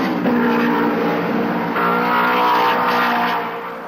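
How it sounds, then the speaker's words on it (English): Mercedes straight-eight Grand Prix race cars at racing speed give a loud, continuous engine howl whose pitch rises and holds, steady and close throughout, with no talk. "The straight-eight Mercedes engines sounded crisp and powerful"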